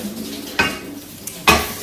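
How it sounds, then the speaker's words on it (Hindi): Dishes being washed in a kitchen sink: two sharp clatters of pots and utensils knocking together over a steady background hiss of running water. "और ये हमारा नया स्किल है बर्तन धोना।"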